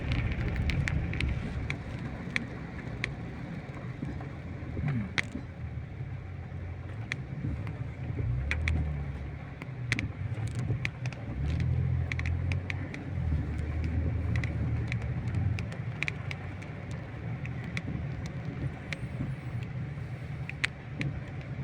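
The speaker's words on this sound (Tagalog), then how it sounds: "Yan, maharorot pa mga sasakyan dito." Cars pass through a rainy intersection, a steady low rumble of traffic and wet road hiss running throughout, with scattered sharp ticks of rain on a nearby surface and no talk.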